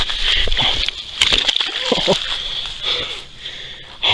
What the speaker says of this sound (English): Let's get it unhooked and back in the water safely.